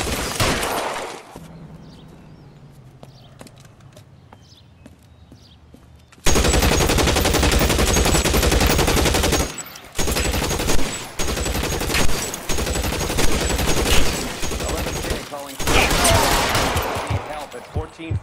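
Rapid bursts of automatic gunfire from the L.A. Noire video game, loud and dense, starting after a quieter stretch and continuing in long sustained volleys with brief pauses between them.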